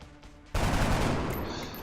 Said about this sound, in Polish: mam rozumieć, że to jest strzał ostrzegawczy